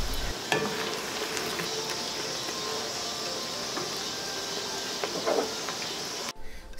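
Finely chopped large red onions and split green chilies fry in a pan for a mutton biryani, giving a steady close sizzle with occasional stirring clatters and a brief louder scrape near the end.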